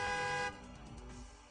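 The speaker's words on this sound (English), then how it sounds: "The honking of a horn." A limousine's car horn in the video game Steins;Gate Elite blares loudly for a moment, then cuts off, leaving a faint low rumble.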